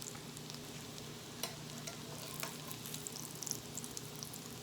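Broccoli latkes fry in oil in a pan with a steady, fairly quiet sizzle and crackle and a few small pops, no talking over it.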